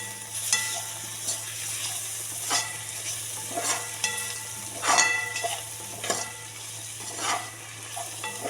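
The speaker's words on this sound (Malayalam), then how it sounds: "വെളുത്തുള്ളി ഇഞ്ചി നന്നായി വഴറ്റിയെടുക്കുക." Crushed garlic and ginger sauté with onion in a hot pan, a steady sizzle punctuated by regular scraping stirs and light metallic knocks roughly every second, close and fairly loud.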